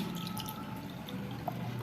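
Water poured from a cup into cornflour in a kitchen while making Bombay halwa, a soft, steady trickle and light splashing, faint and close.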